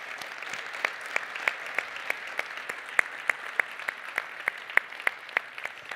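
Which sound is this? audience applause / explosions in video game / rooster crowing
audience applause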